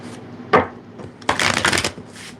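Tarot cards are shuffled up close in two quick bursts: a short riffle, then a longer, denser papery flutter, with brief quiet between them.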